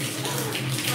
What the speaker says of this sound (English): Floor-to-ceiling faucet.